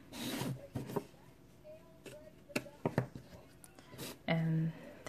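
Craft material being cut with scissors while making wooden letters for a kids' project, with several short snipping and crinkling bursts spread through the clip and a longer rustle near the end, close by and mixed with quiet talk.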